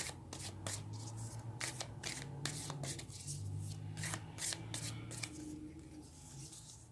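Tarot cards shuffled by hand, a steady run of soft riffling and slapping bursts close to the listener for several seconds, fairly quiet, with no talking.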